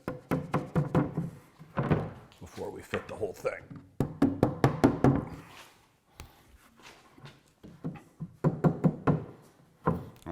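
A wooden tongue-and-groove backboard is knocked into a handmade bookcase, a series of sharp, close knocks and thunks in quick bursts, with someone talking between the blows.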